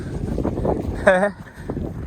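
Strong wind gusting across a hilltop at Kambamala, roaring and buffeting the microphone as a low rumble while someone talks over it.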